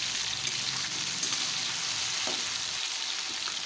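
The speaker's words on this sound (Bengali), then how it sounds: "আমি হচ্ছে গ্যাসে চিংড়ি মাছগুলো ভাজা করছি।" Prawns sizzle steadily in a pan on a gas stove, a continuous close hiss of frying that holds for nearly four seconds with no talk, broken by a few faint stirring clicks.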